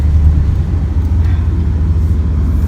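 A car drives over an unplowed, snow-covered road outside a distillery, giving a steady, close, low engine and tyre rumble that holds throughout with no talk.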